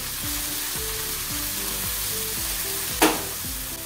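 Chopped tomato sizzles loudly with onion in a hot pan for baingan bharta, a steady close frying crackle with repeated scraping stirs and one sharp clatter; no speech.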